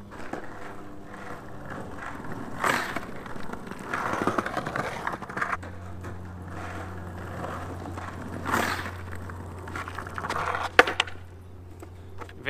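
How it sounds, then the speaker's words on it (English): Soft 92a skateboard wheels power-sliding across rough ground give a steady gritty rolling rumble with scraping surges, and a low hum runs underneath during the second half. "I'm going to try a power slide on these, and then I'm going to try a power slide on my regular wheels."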